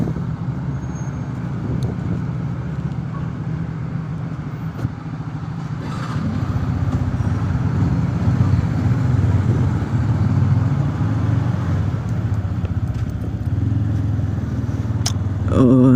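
Motorcycle ride along the Rushikonda beach road in Vizag, a steady engine drone with rushing wind and road noise, rising slightly in intensity midway, continuous and close.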